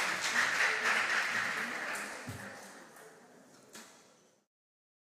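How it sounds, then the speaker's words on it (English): An audience applauds the contestants at the close of a quarter-final round in a school competition; broad, steady clapping starts loud and gradually thins and fades, dying out before a brief noise at the very end. "Please give my contestants a round of applause."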